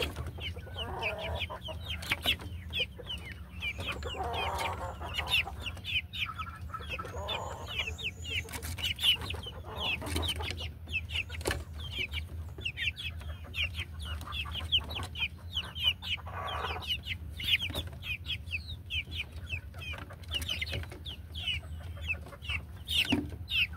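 Several young pullet chickens cluck and chirp in repeated short calls, fairly close but soft, over a low steady background hum, with no one speaking.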